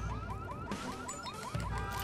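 An alarm in the video game Watch Dogs, a loud repeating rising electronic whoop cycling roughly every fifth of a second, with game noise and a few thumps underneath.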